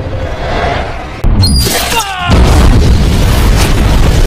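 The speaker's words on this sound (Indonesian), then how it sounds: "Ledakan yang dahsyat membuat gua seolah berguncang sesaat." A loud, sudden boom from a dynamite trap blowing up inside a cave, with a sharp burst followed by a rumbling, sustained roar as the cave collapses.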